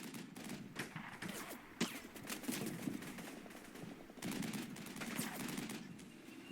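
Troops returning fire in the Combat Mission Cold War video game, with rattling bursts of automatic gunfire and scattered single shots, moderately distant and faint, continuing throughout.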